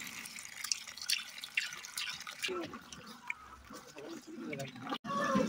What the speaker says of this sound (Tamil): நம்ம தேவையான அளவு தண்ணி சேர்த்துக்க போகிறோம்